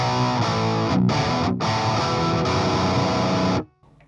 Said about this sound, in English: you get a really tight but still fat distortion